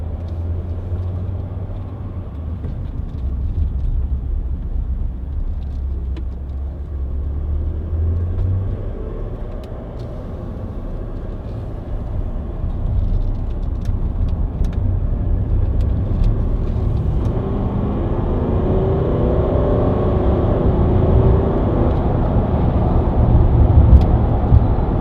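A Range Rover 4.4 TD V8 Westminster 4x4 drives and accelerates, producing a steady, deep rumble heard from inside that gradually grows fuller and louder toward the end.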